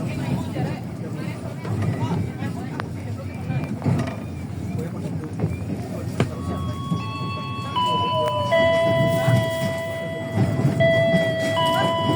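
Steady rumble of the KA Serayu passenger train from Jakarta to Purwokerto moving along rails, with high whining tones that rise toward the end and a muffled voice beneath.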